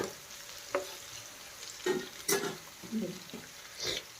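Brinjal frying lightly in a pan for a gravy, with soft sizzling and a few sharp stirring clatters spread across the clip, close by and fairly quiet, with no talk.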